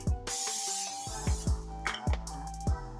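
A broad hiss of cooking spray onto a preheated pan lasting about a second, followed by several soft thuds and clatters of the pan being handled; no talking.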